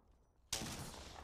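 Gunfire erupts in a battle royale video game as a sudden loud burst of shots starts abruptly after a quiet moment and keeps going as a dense, sustained barrage.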